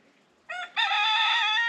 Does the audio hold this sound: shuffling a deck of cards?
no